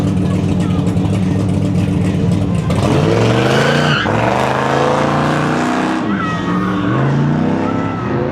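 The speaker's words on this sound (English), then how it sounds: "I dig those side pipes." A Summit Racing Corvette with side pipes runs an autocross course, its engine loud and close with rising revs and gear changes, while a commentator talks over it throughout.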